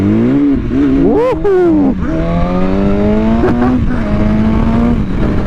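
A BMW S1000RR motorcycle engine screams up through rising revs during a power slide, then holds a steady high drone as the bike keeps accelerating, with a rider's shout of excitement in the middle.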